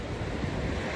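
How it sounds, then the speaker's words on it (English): Big waves crash and surge against a rocky Italian coastline near Bari, a steady, loud roar of surf mixed with wind buffeting the microphone, with no voices. "These giant crashing waves."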